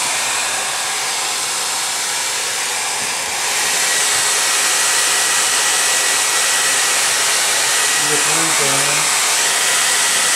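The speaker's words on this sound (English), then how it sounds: "Hair dryer, please." A hair dryer blows with a steady, loud whirring hiss that steps up in intensity partway through; a voice briefly murmurs near the end.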